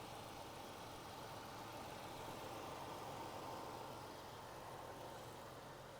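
Land Rover LR4 engine idling smoothly, a steady low hum that stays even and continuous throughout with no talking.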